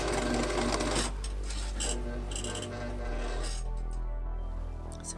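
Sewing machine stitching patchwork quilt blocks, a steady close whirring hum that runs continuously for several seconds and eases slightly toward the end.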